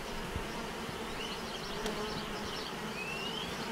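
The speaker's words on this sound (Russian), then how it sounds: "есть чуть-чуть пчел, которые работают на передней стенке улья, скоблением занимаются" Honeybees buzz at the front wall of a beehive in hot weather, a steady close drone with individual bees whizzing past, no talk.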